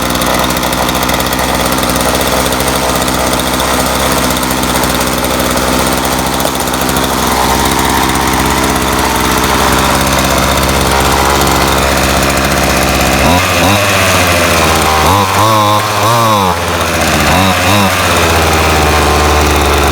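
A John Deere gas string trimmer engine runs loud and close, a steady buzzing drone that settles into idle, with a few short bursts of changing revs near the end.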